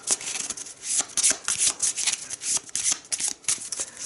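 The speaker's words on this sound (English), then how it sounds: "Give this a shuffle." A deck of cards for the Shadows of Brimstone board game being shuffled by hand, a series of quick riffling bursts with short pauses between them, close and crisp.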